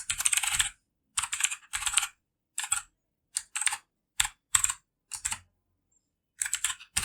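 Bursts of typing on a computer keyboard while writing Arduino code, the quick clicking keystrokes coming in short separated runs with silent pauses between them, close and clear.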